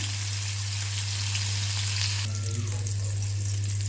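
Paneer tikka pieces sizzle and fry on a hot tawa with a steady, close crackle, a brief stirring or turning shift midway, over a constant low electrical hum.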